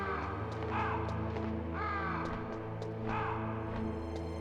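Ravens in the video game Metal Gear Solid give repeated harsh caws, several separate calls spaced through a steady low game ambience and music, fairly close and clear with no talk over them.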